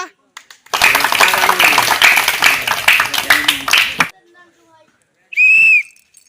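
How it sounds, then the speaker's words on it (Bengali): Loud clapping and cheering from a group at a village swing competition for a few seconds, followed by a short pause and then a sharp, high whistle. "সব একটা জোরদার তালিয়া"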